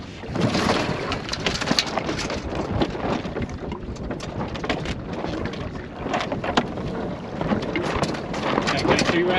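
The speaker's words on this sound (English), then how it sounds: "So we're sailing." A sailboat under way on open water, with steady gusting wind buffeting close by and water rushing along the hull, while people talk intermittently over it.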